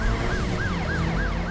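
A police car siren from the Driver San Francisco video game wails in repeating rising-and-falling sweeps, loud and close over a low engine rumble.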